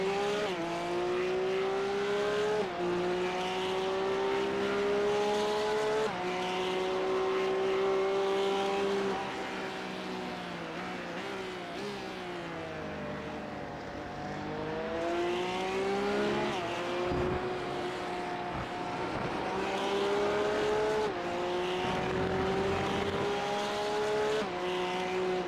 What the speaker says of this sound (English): Porsche Cup's really quick in the straight line. Then the Ferrari comes creeping up again.